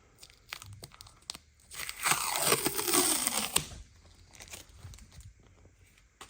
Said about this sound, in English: Peel these stickers off.